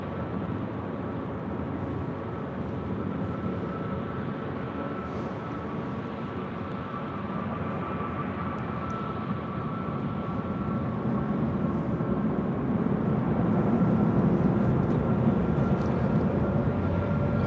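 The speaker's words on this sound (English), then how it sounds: "Another Delta 757, this one, I'm sorry, A321 coming in from SFO, flight 2606. It's our next arrival here on the north side." A Delta A321 airliner arriving from SFO at LAX rumbles steadily at a distance. The low, broad roar swells slightly louder toward the end, and no voices are heard.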